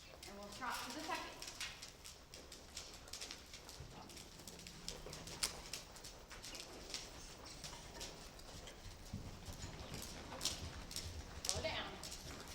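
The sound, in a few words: horse trotting hooves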